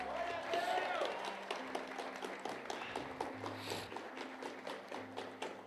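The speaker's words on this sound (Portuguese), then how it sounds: "Tem uns irmãos fortes aí nas palmas, hein?" A church congregation at a baptism service clapping hands in a steady rhythmic beat, the sharp claps repeating evenly and moderately quiet, with music and a voice underneath.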